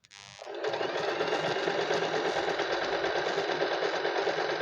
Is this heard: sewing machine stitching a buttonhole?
yes